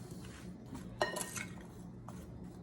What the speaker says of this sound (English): So we're just gonna stir that up.